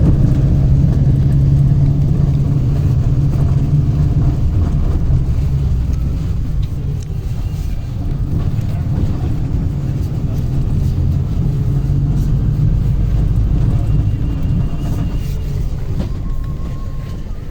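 Loud continuous engine rumble and road drone heard from inside a riding bus in Chile, shifting slightly in pitch as the vehicle moves, with faint rattles.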